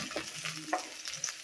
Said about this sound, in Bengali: এই সিমটা আমি এখন এখানে দিয়ে দিব